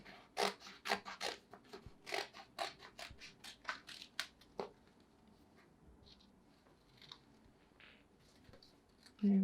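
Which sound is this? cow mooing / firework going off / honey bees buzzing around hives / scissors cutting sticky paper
scissors cutting sticky paper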